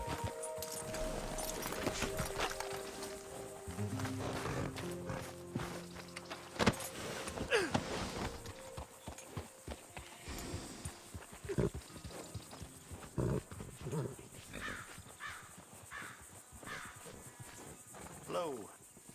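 Horse hooves clip-clop in Red Dead Redemption 2, with intermittent soft hoof beats and clattering under game character dialogue, alongside other faint mechanical and ambient noises.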